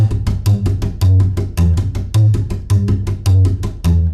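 Rockabilly upright bass played with a normal triple slap, giving a steady loop of deep plucked notes interleaved with crisp percussive string clicks against the fingerboard, close and loud with no voices.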